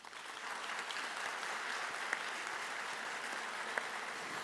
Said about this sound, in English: I would love for us to give you a round of applause